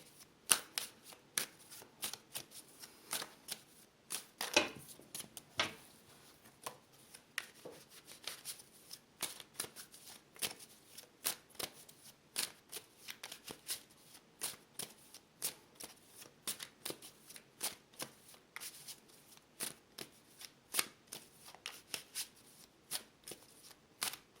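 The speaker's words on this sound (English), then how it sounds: "So I'm just going to lay out the cards and see what the cards are saying." Tarot cards being shuffled and laid out: a long dense series of crisp, quiet card flicks and riffles, close and steady throughout, no speech.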